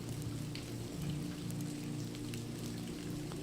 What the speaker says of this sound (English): Rain splatters on the pond, the once glassy surface now overcome by ripples and swirls.